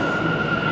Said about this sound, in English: I think the train is here